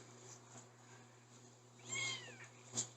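A free-range cat gives one quiet meow over a low steady hum, with faint rustling before it and a short soft chirp afterward.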